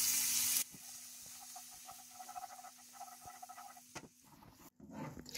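Steady, soft sizzling and bubbling as butter melts into hot caramel in a pan over maximum heat, with a few stirring clicks and a louder burst of hissing near the end.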